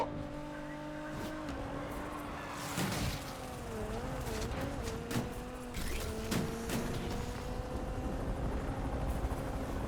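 A police helicopter in Need for Speed Unbound drones steadily with a humming engine tone and rotor chop, its pitch wavering slightly, amid layered game-like background noise.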